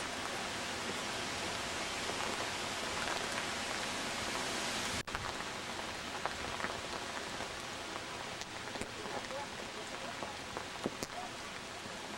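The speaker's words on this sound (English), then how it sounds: "the rain is pouring down on us" Heavy rain pours down outdoors beside an old windmill in Hillsboro, Kansas, a dense, steady hiss filling the whole stretch, close and loud, with a brief dip around the middle.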